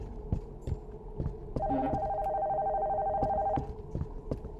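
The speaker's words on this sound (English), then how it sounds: "Phone from upstairs is ringing." A telephone rings upstairs in a dark abandoned building explored at night, its bell trilling steadily for about two seconds amid footsteps and faint rustling, then stopping.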